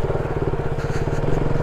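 A motorcycle rides along a rough, badly broken road, its engine a loud, close, rapid pulsing throb that stays steady and chugging for the whole moment.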